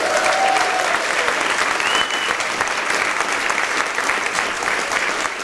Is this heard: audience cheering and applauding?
yes